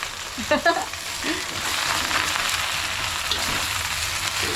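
Loud, dense frying sizzle of spinach in a pan, starting after a few brief clatters and then holding steady and close.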